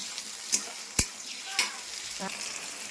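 Onion already fried red in a pan with chopped tomato going in, heard as a soft, steady sizzle broken by a few sharp utensil knocks and stirring scrapes.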